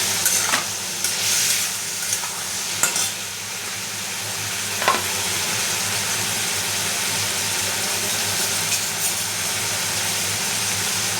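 Tomatoes go into cooked vegetables for tawa pulao, bringing a steady sizzle and frying hiss with a few stirring clinks near the start.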